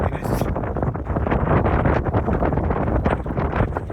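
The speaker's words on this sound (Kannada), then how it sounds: "ಗಾಳಿ ಮಾತ್ರ ಹೆವಿ ಇದೆ" Strong wind at the Mantralayam pilgrimage site buffets the microphone in heavy, continuous gusts, rumbling loudly throughout.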